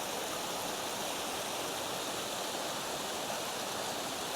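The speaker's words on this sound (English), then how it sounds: "look at this pretty little waterfall" A small waterfall on the Pacific Crest Trail rushes in a constant, even roar, heard from close by, with no other sounds.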